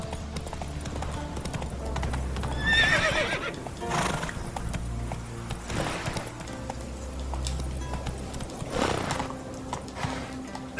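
Horse hooves clip-clop at a steady gallop with whinnies and neighs, from the mount Roach in The Witcher 3: Wild Hunt video game, close and continuous over game ambience.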